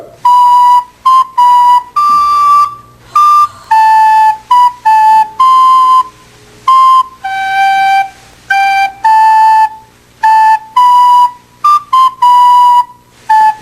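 Recorder playing a Mozart sonata, a run of clear, bright sustained notes with short gaps between phrases, close and fairly loud with no talk over it.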